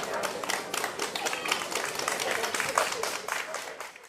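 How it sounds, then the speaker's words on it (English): Applause from a crowd in an audio drama, a dense steady patter of many hands clapping that runs the whole time at an even level, then eases off slightly near the end. "Everyone applauded."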